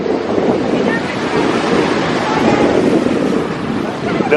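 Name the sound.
ocean waves at a beach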